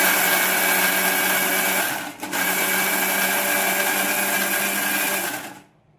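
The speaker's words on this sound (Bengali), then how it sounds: "এবার মিক্সিতে পেস্ট করে নেবো।" A mixer grinder blends a spice paste with water in a loud, continuous, high whirring run that dips once for a moment, then winds down and stops near the end.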